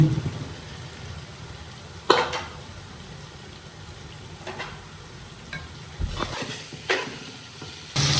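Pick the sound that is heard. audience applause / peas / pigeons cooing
peas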